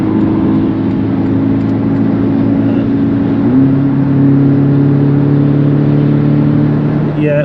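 A 2023 Porsche Cayman engine heard from inside the car, a loud, steady drone that steps up in pitch midway as the revs climb after a downshift, with a brief voice near the end.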